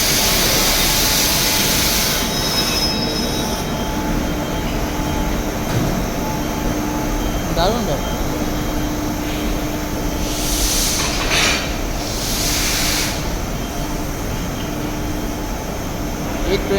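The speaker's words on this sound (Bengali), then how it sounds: "একটা দুটো তিনটে ইঞ্জিন নিয়ে ট্রেনটাকে ফেলে তুললো পাহাড়ের ওপরে" A passenger train from Mumbai is hauled up the hill into Lonavala station by three locomotives, producing a continuous heavy rumble and hiss throughout, with a brief remark spoken partway through.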